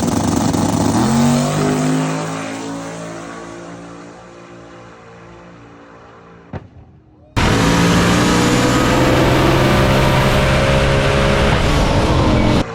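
A race car engine after a big exhaust pop, droning loudly and then cutting out briefly before roaring back at full, steady volume.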